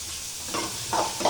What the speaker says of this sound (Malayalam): നമുക്ക് നല്ല ഇളക്കി കൊടുക്കാം